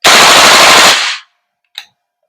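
A VFC Knights Armament SR16 E3 MOD2 airsoft gas blowback carbine fires one loud, close full-auto burst of about a second of rapid clattering shots, followed by a brief mechanical clack.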